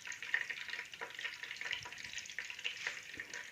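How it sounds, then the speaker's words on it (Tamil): Bread pakora deep-frying in hot oil, a steady soft hiss and fine crackle, faint and continuous with a few small pops throughout. "பிறகு சூடு பண்ணின எண்ணெயில் நாங்கள் அதை ஃப்ரை பண்ணி எடுத்துக்கொள்வோம்"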